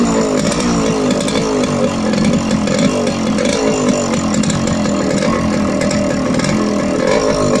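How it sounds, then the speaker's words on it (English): A loud, raspy two-stroke Yamaha RX motorcycle engine idles and revs steadily near the listener, with a buzzing, chainsaw-like crackle throughout and no talking. "So listen to the exhaust note of this bike."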